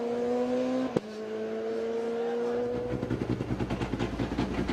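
Peugeot 207 rally car on a closed stage at the San Remo rally, its engine holding a steady high note before the revs drop into a rapid, pulsing off-throttle burble and crackle, loud and close with no talk.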